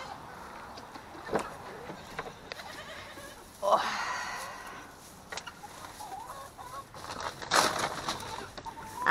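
Goats bleat in a barnyard alongside clucking chickens, with a couple of loud bleats and scattered clucks at moderate distance over a quiet rustling background.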